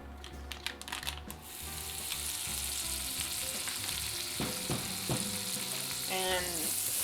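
Butter and mushrooms sizzle in a cast iron skillet, a steady close frying hiss with some clatter of utensils early on and a few sharper pops and scrapes later.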